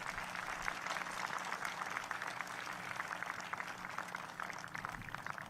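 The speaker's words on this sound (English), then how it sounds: "Let's give Brandon a round of applause tonight." Sustained audience applause in a large hall during a governor's State of the State address, an even, dense wash of clapping heard at moderate volume throughout.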